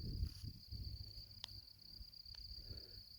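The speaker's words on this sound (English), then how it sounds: "I love when all I can hear is the sounds of like crickets" Crickets chirp in a steady, high, faint trill across open desert at Spur Cross Conservation Area, with soft low rumbling underneath and no voices.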